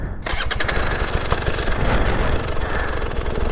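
An enduro motorcycle engine revs hard while stuck on difficult, muddy Asturian terrain, a loud, close, continuous roar with surging throttle bursts and no talk.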